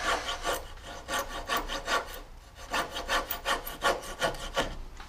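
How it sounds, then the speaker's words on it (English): A coping saw cuts through solid wood while an antique clawfoot piano stool is repaired, giving steady back-and-forth rasping strokes in quick bursts with brief pauses, close and clear with no talking. "I'm just going to nip in here with the coping saw"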